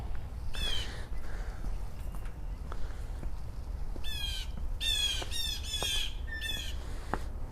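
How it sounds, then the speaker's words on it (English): Blue jays squawk in harsh, raspy calls, a couple early and then a rapid cluster of loud squawks, heard over steady outdoor background noise. "Blue jays are angry."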